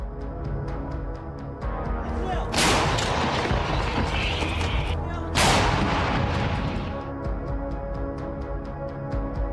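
Mortar and artillery fire in combat during the war in Ukraine: two heavy, close booms about three seconds apart rise over a continuous rumbling background of distant fire.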